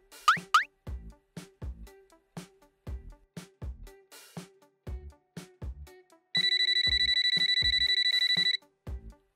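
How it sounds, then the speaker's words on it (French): An electronic ringtone trills steadily for about two seconds amid repeated knocking and plopping sounds, with a few quick sliding tones at the start. "Tu entends la sonnerie du téléphone?"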